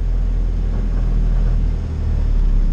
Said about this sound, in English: the motor's running real good